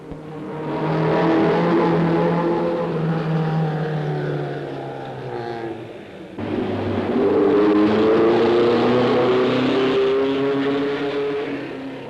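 Rally car engines drone and rev as cars pass one after another on a mountain route during the 1972 Monte Carlo Rally, pitch rising and falling, loud and close, with no talking.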